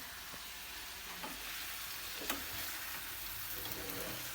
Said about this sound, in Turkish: Patateslerim şöyle kavruldu.